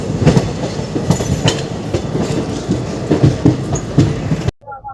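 Tebhaga Express passenger train with ICF coaches running on the line from Bardhaman Junction toward Kolkata, a steady loud rumble with rhythmic wheel clatter over rail joints that cuts off abruptly near the end.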